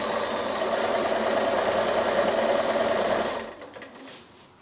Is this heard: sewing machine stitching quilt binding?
yes